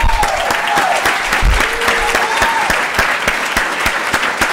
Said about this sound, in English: please stand up and get an applause, please.